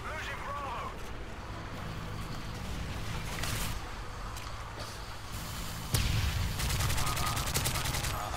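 Rapid bursts of video game gunfire from a first-person shooter crackle repeatedly over a steady background, with a loud burst of automatic fire near the end, while a player talks over it.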